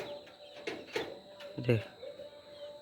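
A myna bird calls near a chicken-feeding area in a rural yard, giving a few short, fairly close chirping bursts over faint background noise.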